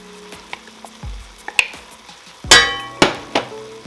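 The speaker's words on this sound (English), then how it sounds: "We are adding the 2 cups of corn." Corn being poured into a pan of chicken, fire roasted tomatoes and rice: a soft sliding clatter of kernels with scraping and a few sharp metallic clanks of utensil on pan, no voices.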